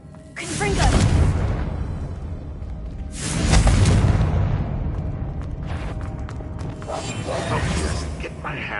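Blasting spell explosions in a Hogwarts Legacy battle, two loud booming bursts with whooshing tails around one and three seconds, followed by lingering rumble and scattered crackles.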